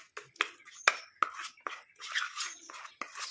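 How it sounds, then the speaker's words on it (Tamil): A homemade hair dye paste is stirred in a bowl, giving close, irregular scraping and tapping strokes with short pauses between them. "நல்லா மிக்ஸ் பண்ணிடுங்க கட்டி இல்லாமல்"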